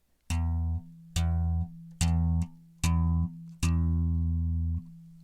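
Five bass guitar notes played into a record-enabled track, each a loud, deep plucked tone held briefly then cut off, in an even series with short gaps and no voices.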